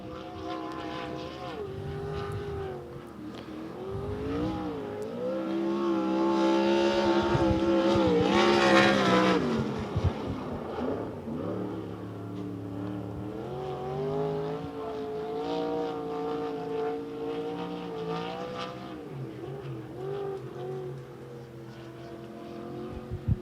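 A dirt-track race car at Devil's Bowl Speedway roars through a qualifying lap, its engine pitch rising and falling as it swings through the turns, loudest near the middle as it passes close.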